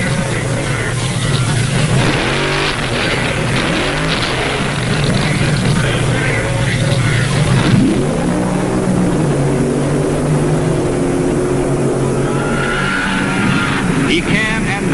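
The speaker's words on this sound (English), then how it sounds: "And Leong repeat his thrilling funny car eliminator win at last year's Internationals." A powerful 1970s funny car drag racing engine roars and drones continuously, rising and shifting in pitch, loud and close, with a crowd murmur faintly beneath.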